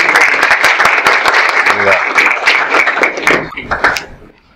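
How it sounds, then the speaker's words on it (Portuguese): Audience applause for speaker Alexandre Minardi at a seminar, loud, dense clapping with a few voices mixed in, tapering off toward the end. "Mas eu queria aqui uma salva de palmas para o Alexandre Minardi"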